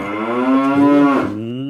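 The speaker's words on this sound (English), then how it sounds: "I hear the cow sound now." A cow lets out one loud, drawn-out moo that rises and then tapers off, close and clear, with no talking over it.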